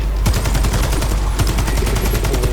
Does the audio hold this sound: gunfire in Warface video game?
yes